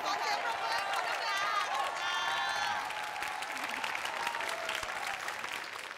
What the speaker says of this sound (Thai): ขอเสียงปรบมือขอบคุณค่ะ